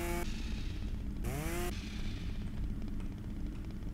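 A chainsaw in a US firefighter simulator video game runs with a steady, buzzing drone, fairly loud and continuous, with a brief rising whine partway through and no talking.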